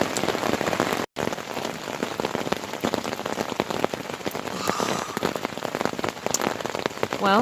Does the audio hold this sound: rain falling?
yes